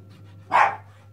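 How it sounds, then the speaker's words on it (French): A single short dog bark sounds nearby, clear and sharp, against an otherwise quiet background with a faint hum. "vous allez l'entendre aboyer"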